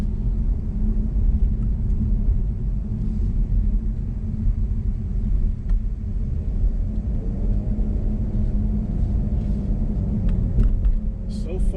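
A Cadillac CT5-V sedan drives over a very bumpy road. A constant low road-and-tyre rumble fills the cabin, with a faint tonal hum rising midway and a brief voice near the end.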